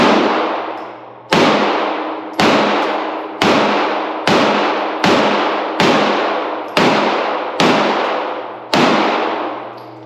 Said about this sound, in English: Springfield Armory, Hellcat Pro. 10 rounds, MagTech ammo. Let's see what we can do.